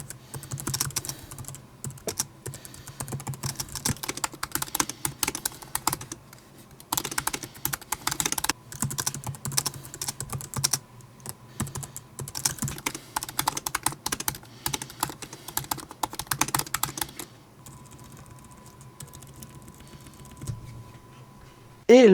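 Rapid, clicky keystrokes on a shallow 2017 MacBook Pro butterfly keyboard, steady typing with brief pauses, close up; a faint tone hums near the end.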